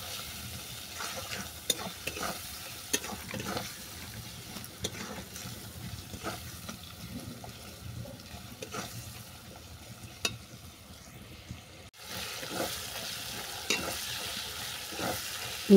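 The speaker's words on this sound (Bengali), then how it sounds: "এই মশলাটাকে ভালো করে কষিয়ে নেব।" Chili powder and spice paste for a mango chicken curry sizzle and fry in a pan, with repeated scraping stirs clacking at a steady, close rhythm and no talk.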